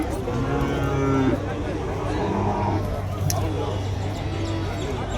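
Cattle at the Matrappalli livestock market give a drawn-out moo near the start and a softer low moo later, amid crowd chatter and market bustle.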